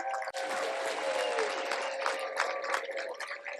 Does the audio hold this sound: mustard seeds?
no